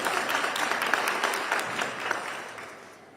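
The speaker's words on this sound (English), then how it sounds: "You can clap" An audience claps through a New Bern mayor and aldermen candidate forum, a steady burst of applause that thins and fades toward the end.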